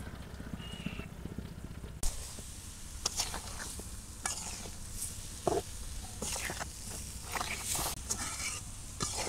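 Starfruit (kamranga) sautéing in a pan for a prawn bhuna, giving a soft steady sizzle with scattered scraping and stirring clicks from a utensil, close and moderately quiet, with no talking.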